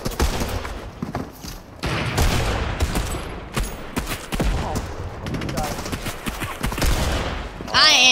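Rapid video game gunfire from a mammoth pistol in a gun game mode, with dense volleys of shots cracking under excited players' voices.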